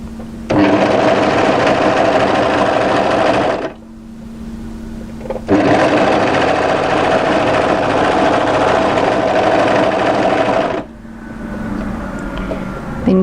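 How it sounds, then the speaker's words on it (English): An overlocker serges a seam on a draped midi dress, running loud and steady in two long bursts, then a softer stretch of whirring at the end. "Overlock a few stitches to secure, find the first notch and match it"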